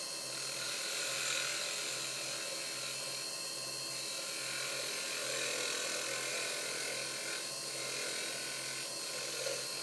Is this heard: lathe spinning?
yes